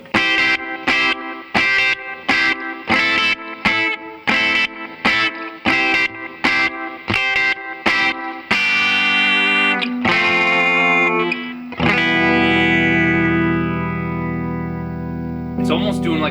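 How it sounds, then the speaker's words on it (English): A VFE Mobius Strip DIY guitar pedal in Mobius mode gives electric guitar a swirling, flanger-like modulation: rhythmic strummed chords at first, then long sustained ringing chords that sweep and fade, loud and close, with no talking. "It's almost doing like a flanger kind of sound."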